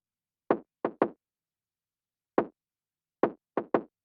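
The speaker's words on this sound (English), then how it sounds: "On top of this kick, I layered a texture kick, just to give that main kick some more presence." Short, dry percussive thumps of a layered texture kick drum sample in sparse groups of two and three, isolated with silence between hits.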